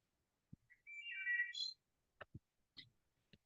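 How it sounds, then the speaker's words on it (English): A short whistled bird call, clear and fairly close, followed by a few faint chirps and clicks against near silence. "I hear birds."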